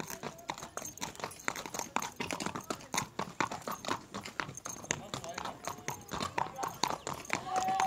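A horse on a ranch clip-clops at a steady walking rhythm, close by and fairly quiet, while people talk over it.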